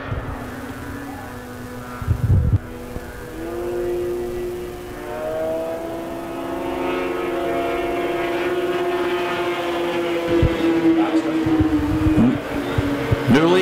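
Super Stock 340 fan-cooled snowmobile racing, including a 1976 Yamaha: a loud, continuous high-pitched whine of two-stroke engines sweeping up and down in pitch as sleds pass close by, with a few louder blasts.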